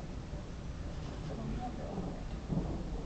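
Low, rolling thunder rumbles through a night thunderstorm in Boston, steady and heavy with rain and wind buffeting the microphone, and a voice talks over it.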